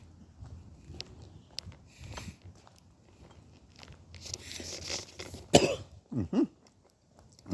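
A person with a cold and sore throat gives several brief, scattered coughs and throat-clearing sounds, the loudest bursts coming near the end of an otherwise quiet stretch with faint shuffling.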